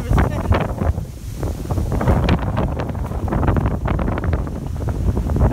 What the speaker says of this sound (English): It's too windy, I guess, to talk to you right now.